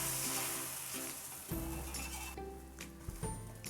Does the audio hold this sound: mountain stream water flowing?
no